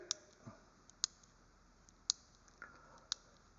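A small nano socket ratchet clicks faintly in a quiet setting, giving sharp, isolated ticks about once per second with softer clicks between them, and no speech.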